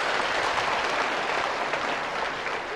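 Studio audience applause on a Vietnamese TV word-guessing game show: dense, even clapping from a crowd, sustained for a few seconds without talk.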